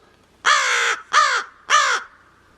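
A crow-like captive bird gives three loud, harsh caws toward a raven, each about half a second long with brief pauses between, close and clear against near silence.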